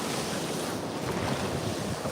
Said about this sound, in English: there are some waves coming in